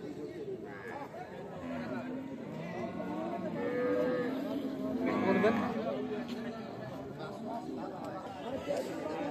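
Cow and calf at a rural cattle market (Ambari haat), low lowing sounds rising in the middle under steady crowd chatter and nearby bargaining voices.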